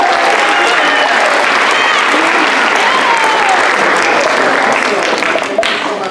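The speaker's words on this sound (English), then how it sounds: "so please give them all a big round of applause." A school audience at a student liar's contest gives a big round of applause. The clapping is loud, close and dense, holding steady for the whole clip with crowd noise mixed in.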